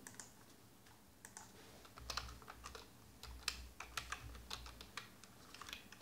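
Code typed on a computer keyboard in a quiet room, a faint, close run of uneven key clicks and taps with short pauses.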